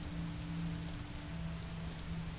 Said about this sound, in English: Curse you,